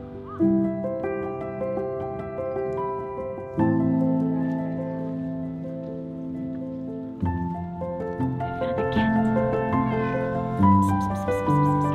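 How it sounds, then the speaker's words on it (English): A cat in Japan, near Tokyo, lets out a series of long, drawn-out meows, each starting abruptly and holding its tone, loud and close with no talking over them. "Oh, little cat, let me love you."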